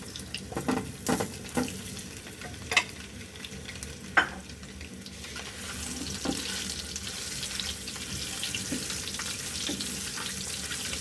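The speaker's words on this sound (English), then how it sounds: "We're going to fry the eggs first." Eggs fry in vegetable oil in a pan with a steady soft sizzle, broken by a few clattering knocks and scrapes of utensils, close by and without talk.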